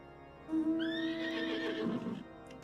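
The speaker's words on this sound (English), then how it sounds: "Oh, fancy Pegasus horse even" A Pegasus horse mount in a video game gives a loud, drawn-out neigh lasting about two seconds, ending in a breathy snort, heard alone without talk.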